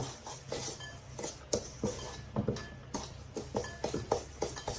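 Sugar is mixed into ghee in a bowl, making repeated soft scraping and clinking strokes of a utensil against the bowl at a quiet, close, uneven rhythm.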